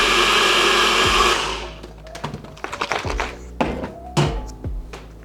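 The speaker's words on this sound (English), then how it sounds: "Gotta get the blender going." A blender whirs loudly for about a second and a half while mixing a drink with powdered greens, then cuts off, followed by a series of sharp taps and clunks.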